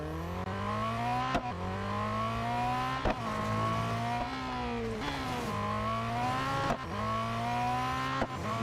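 A race car in Real Racing 3 runs an autocross at Laguna Seca, its engine revving hard in repeated climbing pitches with sharp gear changes, the note dipping and rising again through the corners.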